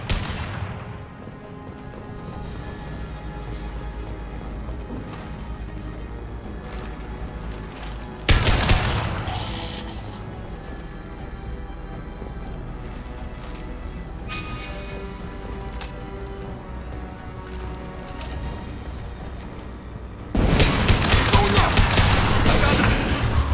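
Gunfire in the video game Mass Effect 2 during a firefight, a dense, continuous crackle of shots with louder bursts breaking in partway through and again near the end.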